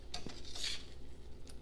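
Candied yams simmering in a pan for a holiday dish are turned with a utensil, giving a few light clinks and scrapes of metal against the pan over a low, steady sizzle, with no talking.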